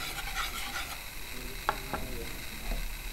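Jalebi batter made from a ground paste and cornflour is stirred in a bowl, giving a soft wet churning with a few sharp clicks of the spoon against the side over a steady low hiss.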